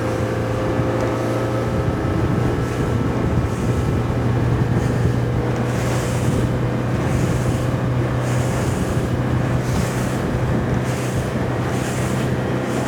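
A Haines Signature 543SF boat planes over choppy water and crosses boat wakes at about 3,600 RPM, a loud, continuous engine roar mixed with wind buffeting and rhythmic hull thumps, with no talking.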